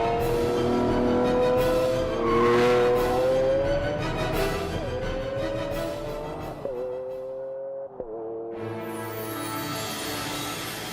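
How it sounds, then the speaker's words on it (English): A Lamborghini Aventador LP700-4 V12 revs in long rising, climbing tones, with sharp gear-shift breaks near the end before the engine note fades into a quieter, hissing tail. "From a moderate rumble through the town at low revs to the screaming crescendo of"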